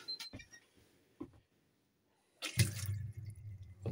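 A few faint taps and drips, then a caravan sink tap turns on and water runs steadily with a full rushing sound close by.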